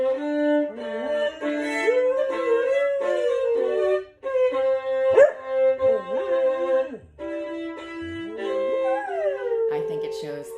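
A dog howls and yips along with Bartók's violin and piano music, its rising and falling wails weaving through the sustained violin lines and piano chords at close range.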